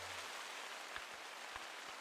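Steady rain hissing through a game world while stalking prey in The Hunter: Call of the Wild, a constant broadband wash with a few soft low thuds, no voices.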